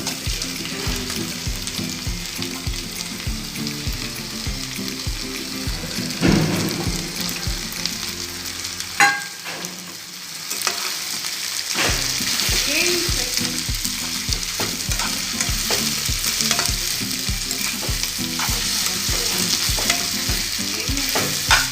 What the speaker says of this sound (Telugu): ఒక నిమిషం వేగిన తర్వాత రొయ్యలు వేసుకోవాలి.